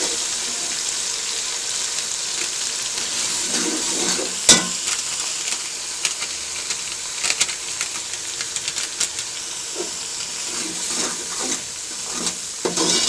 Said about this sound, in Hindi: अच्छी तरह मिक्स कर लें बिरयानी मसाले को।